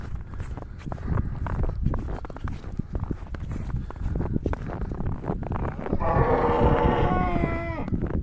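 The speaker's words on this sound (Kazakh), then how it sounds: "Естіп тұрған шығарсыздар, аяқ кәдімгідей сықыр-сықыр етеді." Boots crunch and squeak rhythmically through fresh snow in a village livestock yard on a mild, frostless day, near and steady, while a cow lows in a drawn-out moo toward the end.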